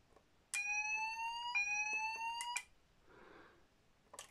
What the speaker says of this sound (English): the precinct input is to sound the buzzers for like a school or something